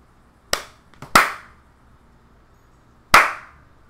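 Three sharp hand claps, each standing alone against a quiet background, spaced unevenly with two close together early and one a couple of seconds later.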